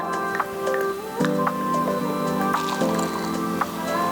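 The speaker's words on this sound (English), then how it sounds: "And we're going to put 3 ounces of Prosecco per cocktail." Prosecco is poured into a glass for an Aperol pomegranate spritz, giving a soft fizzing, dripping liquid sound over light background music.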